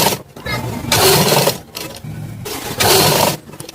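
A sewing machine stitches a dhoti pant in short loud bursts of buzzing noise, with pauses between runs. People talk throughout.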